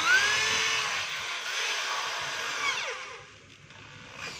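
A DeWalt 13mm hammer drill with a stiff chuck runs in drill mode, giving a steady, close motor whine that holds for a few seconds and then dips near the end.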